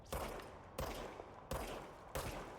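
Four heavy gunshots from the player's weapon in the video game Control, fired in a slow, uneven rhythm, each a loud close blast with a short rumbling tail.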